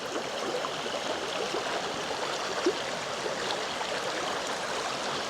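A stream's running water makes a constant broadband rush that holds level throughout, with a slight gurgle near the middle and no one speaking.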